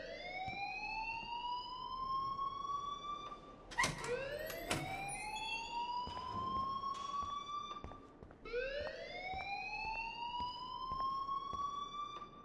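An electronic alarm ringing in the video game Life is Strange, with repeated rising warbling tones sweeping upward in a steady siren-like cycle, continuous and moderately loud, with no talking.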